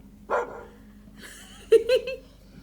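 A dog barks in a scene of the Korean drama Light Shop, heard as a single early yelp followed by a pair of quick barks later, moderately loud over a quiet room tone.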